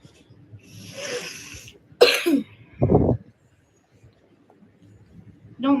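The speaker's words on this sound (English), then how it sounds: "Don't mind that cough." A person coughs up close, a couple of harsh throaty bursts with rough breathy noise between them, then quiet.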